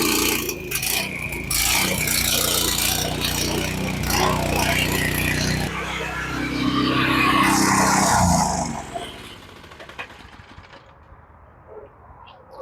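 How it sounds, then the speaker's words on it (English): A Lifan engine on a Murray go-kart runs with a loud, rough, rattling roar that shifts in pitch and cuts off, leaving only faint shuffling sounds at the end. "Let's give her a run."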